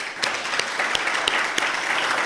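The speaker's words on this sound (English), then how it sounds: "Can I give them a round of applause?" A small audience claps for a team, with a handful of louder individual claps standing out over a softer, steady patter.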